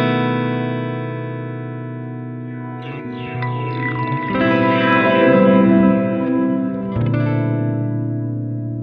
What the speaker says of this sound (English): if I turn this off whilst the effect is running, the effect continues to trail over